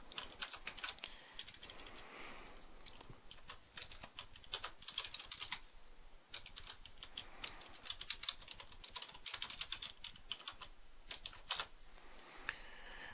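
Rapid, continuous clatter of a computer keyboard as Java database connection code is typed, keystrokes close and fairly quiet with brief pauses between bursts.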